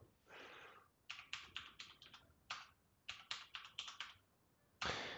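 Fingers type on a computer keyboard to enter a username, producing a quick run of crisp, close keystroke clicks in short bursts, followed by a louder clatter at the end.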